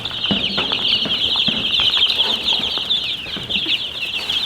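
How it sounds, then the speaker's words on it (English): A flock of excited farm chickens: dense, continuous high-pitched cheeping and clucking with bursts of wing flapping and scuffling, loud and close, filling the whole stretch without speech. "Oh, those chicks are excited."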